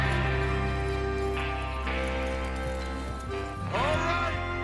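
Horse hooves clip-clop in a steady trot in Red Dead Redemption 2 amid game music and ambience, with a brief whinny-like sweep near the end.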